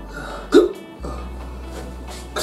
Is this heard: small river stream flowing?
no